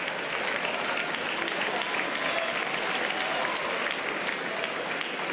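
Audience applauding at a stand-up comedy show in France, a steady, dense wash of many hands clapping at moderate distance, sustained evenly throughout with a little crowd murmur underneath.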